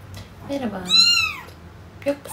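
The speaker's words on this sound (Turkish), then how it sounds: "Hiç mi yerinde durmaz bir kedi?" A cat gives a drawn-out, rising and falling meow close by, followed by a shorter chirp, while a person talks softly around it in a room.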